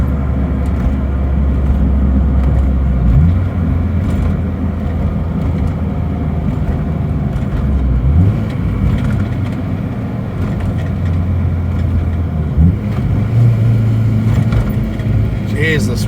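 A car with a Honda B16 engine drives over a bumpy road, a steady low engine drone with loose rattles and knocks from the cabin, while someone talks throughout.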